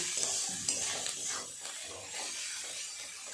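Spice masala is stir-fried in a pan for a chicken dish, a soft sizzle under repeated scraping and stirring strokes from a spatula, close and moderately quiet.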